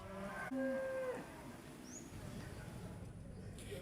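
Cattle moo at a livestock market in Purwakarta, a few low drawn-out calls in the first second over steady crowd and market murmur, fairly faint and distant.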